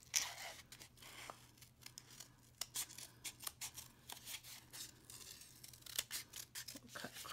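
Scissors cut out a paper dinosaur, giving faint, irregular snips and paper rustles close by in a quiet room, over a low steady hum.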